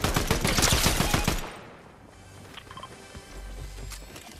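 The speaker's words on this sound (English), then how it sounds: "He's trying to shoot me." Rapid bursts of gunfire from an opponent in a Fortnite zero-build match rattle loudly for over a second, then cut off, leaving quieter game ambience with faint distant noises.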